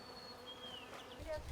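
Small parasitic wasps that lay eggs in caterpillars, buzzing in a field: a steady, faint insect drone with thin wavering whines drifting past, a low rumble building near the end.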